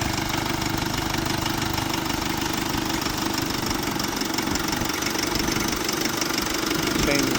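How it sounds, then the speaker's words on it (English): Mercedes C Class diesel engine idling steadily at close range, a continuous even drone that stays level throughout with no talking. "To start the engine up"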